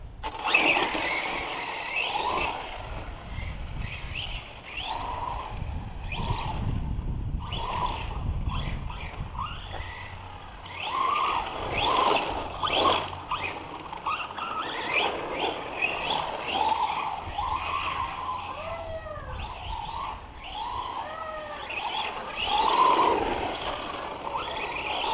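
A Redcat Blackout SC RC car on its first run outdoors with a new brushless motor, giving repeated rising and falling electric whines as it speeds up and slows, moving nearer and farther.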